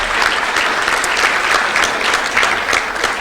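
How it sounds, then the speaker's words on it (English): Dense, steady applause from an audience at a university breakfast meeting, loud and close, continuous throughout with no speech over it. "He deserves a special round of applause as he does that for us all the time."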